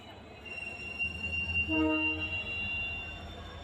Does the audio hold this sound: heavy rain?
no